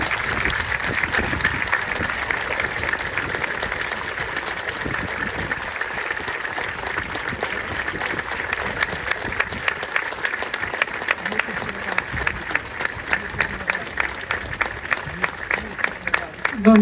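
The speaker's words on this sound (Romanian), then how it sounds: "Vă rog un rând de aplauze." A round of audience applause at the Vacanțe Muzicale 2024 music event, a broad, sustained patter of many hands that continues steadily, with individual claps growing more distinct and spaced toward the end and brief voices beneath it.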